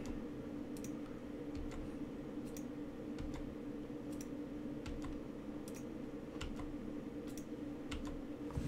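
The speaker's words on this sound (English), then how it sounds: "it's just easier for me to click delete on the keyboard" Soft, scattered keyboard key presses on a computer keyboard, a few quick clicks spread irregularly over a steady background hum, fairly faint and with no talking.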